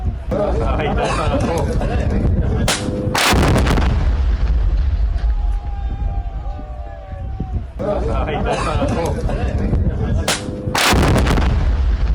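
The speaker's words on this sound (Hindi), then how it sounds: "रिहायशी सोसाइटी की खाली इमारतों को उड़ाया, सोसाइटी की सभी इमारतों को एक साथ उड़ाया।" Controlled blasts bring down empty residential society buildings in Gaza, with two heavy explosions roaring out several seconds apart while a voice talks through the rumble and debris between them.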